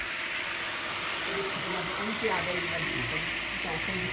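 Onions sizzle and fry in a pot in a home kitchen, a steady hissing crackle that carries on throughout while a person talks over it.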